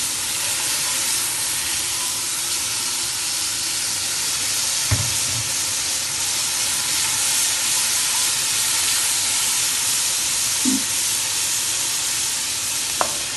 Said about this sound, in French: On va faire revenir dans notre cocotte en fonte avec un peu d'huile d'olive nos lardons.